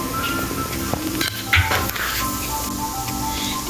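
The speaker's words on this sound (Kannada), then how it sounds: "ಎಣ್ಣೆ ಕಾಯೋಕೆ ಇಟ್ಟಿದೆ, ಕಾದ್ಮೇಲೆ ಹಿಂಗೆ ಬಿಟ್ಕೊಂಡಿದ್ದೀನಿ" Snack mixture dough frying in hot oil over a medium flame: a dense, steady sizzle and crackle runs throughout, close and fairly loud, with a few faint utensil clinks.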